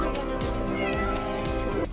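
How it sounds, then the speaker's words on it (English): A cartoon kitten in an animated friendship story meows against a busy backdrop of background music, the cry fairly steady and close, with no speech over it. "Oh no! A kitten! It looks lost."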